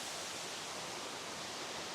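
Waterfall at Frozen Head State Park, Tennessee, a steady broadband rush of falling water that holds even and unbroken throughout, close and moderately loud, with no voices.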